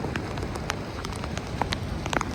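Rain at a house in Antique, Philippines during a tropical storm, a steady dense patter of drops with scattered sharper taps on nearby surfaces, continuous and fairly close, no talk.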